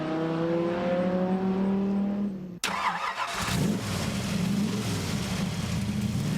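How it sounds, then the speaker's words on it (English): A Viper-powered Cobra roars on a racetrack, its engine note rising through the gears until a sharp crack marks a shift, then dropping into a deep, loud rumble and growl as the car powers on close by. "his Viper-powered Cobra looked and sounded awesome on the track"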